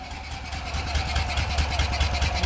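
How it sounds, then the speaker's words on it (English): A BMW Isetta's small engine runs at a steady idle nearby, its exhaust puffing in a quick, even low-pitched pulse with a faint mechanical rattle above, continuous and fairly loud throughout. "We've got a little bit of exhaust puffing."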